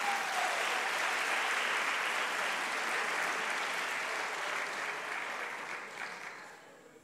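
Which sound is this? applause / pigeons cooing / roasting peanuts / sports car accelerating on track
applause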